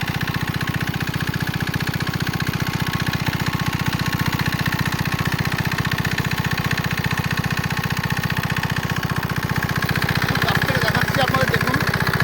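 A small engine-driven machine with water running through it runs steadily at close range, a loud constant mechanical drone with a rapid throb and no break.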